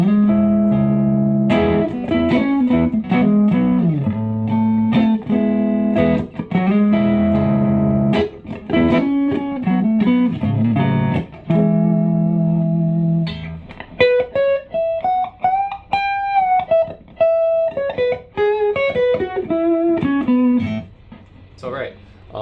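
An electric guitar played through an overdrive pedal with a distortion setting, loud and alone, strummed chords and riffs followed by sustained single-note melodic lines with bends.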